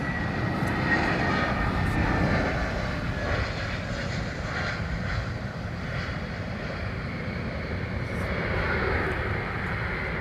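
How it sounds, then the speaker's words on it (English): A GE90 jet engine spooling up in the distance at Heathrow Airport, a faint, broad rushing roar with a thin whine above it, held steady under general airport ambience with no talking. "A distant sound of a GE90 firing up."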